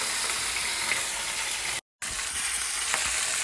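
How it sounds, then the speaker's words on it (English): Whole fish frying in hot oil for escovitch fish, with a loud, steady, dense sizzle and crackle close by, broken by one short silent gap. "Yeah, fish, I'm gonna fry the whole ones first."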